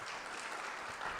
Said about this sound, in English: Give another final round of applause to everybody.